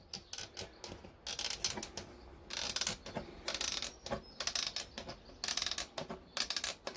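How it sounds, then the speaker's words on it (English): Hand snips cutting through a thin metal mess tin lid, faint close bursts of crisp snipping and crunching in uneven clusters with short pauses between cuts. "I'm just going to use some hand snips"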